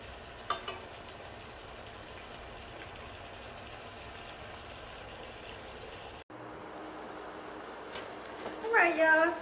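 Shrimp sizzle softly in a hot pan for fajitas, a steady low frying hiss that carries on alone, broken by a brief pause and then louder clatter near the end.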